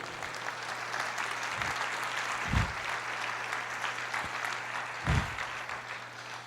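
A church congregation claps for the Lord in a sustained, even wash of applause, with a low steady hum beneath and two deep thumps breaking through partway and near the end.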